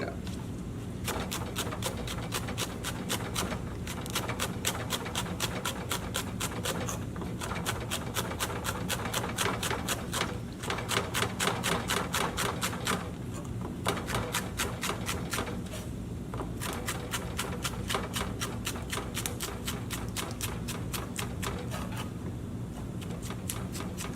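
A knife chops green onions on a board, a fast, even run of crisp taps repeating steadily and close, with a few short pauses, continuing for over twenty seconds.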